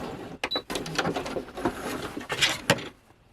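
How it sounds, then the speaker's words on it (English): A home sewing machine runs a zigzag stitch along a fabric edge of a custom Mandalorian flak vest, in a few short uneven mechanical bursts with clicks and pauses between them. "I'm going to do a zigzag stitch to overlock the edge here."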